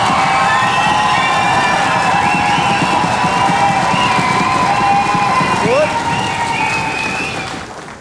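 A TV studio audience applauds and cheers for an impersonator and his band, a dense, loud, continuous wash of clapping that fades toward the end.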